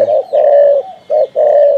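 Spotted dove cooing up close, loud and clear: a steady run of low, rounded coos in two- and three-part phrases with short gaps, heard alone.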